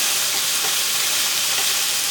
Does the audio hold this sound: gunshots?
no